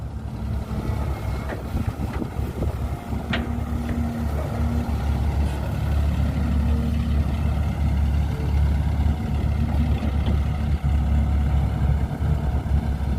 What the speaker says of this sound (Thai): เครื่องยนต์มิตซูบิชินะครับ